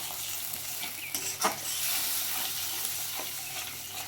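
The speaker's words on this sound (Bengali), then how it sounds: "টক দইটাকে দিয়ে একটু আস্তে আস্তে হালকা হাতে নাড়তে হবে, নাহলে টক দইটা ফেটে যাবে।" Beaten sour yogurt being gently stirred into a simmering fish curry of katla, a steady sizzle and hiss from the pan with a few soft scraping knocks of the spoon, close and moderately quiet with no talking.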